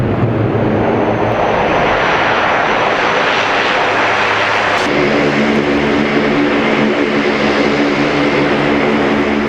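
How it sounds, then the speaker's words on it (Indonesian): A loud, steady engine roar from a US bomber landing in the Middle East drones on throughout, with a deepening low hum partway through as the plane passes close. "Presiden Amerika Serikat Donald Trump membagikan video pesawat bomber Amerika Serikat mendarat di Timur Tengah."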